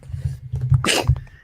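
A single sharp sneeze bursts out in a quiet room, loud and close, over a low steady hum.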